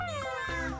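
A close, drawn-out cat meow with a rising, whiny tone, loud and alone for under a second.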